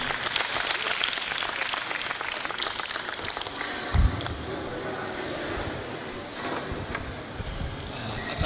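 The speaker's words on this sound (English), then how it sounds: "Please, a round of applause for him once again" Audience applause at a local government event in Niger, a dense sustained patter of many hands clapping in a hall, with a sharp bump midway and a slight rise at the end.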